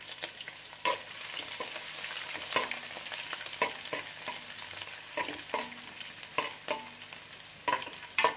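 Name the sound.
garlic, ginger and green chillies frying in hot oil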